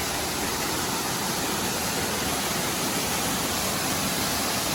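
A waterfall near Manuguru pours with a loud, unbroken broadband rush of falling water, steady and close with no pauses or voices over it.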